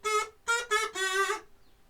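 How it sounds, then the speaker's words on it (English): A kazoo buzzes four short notes, nasal and raspy, with a slight rhythmic stutter before fading to silence. "kazoo sounds like this."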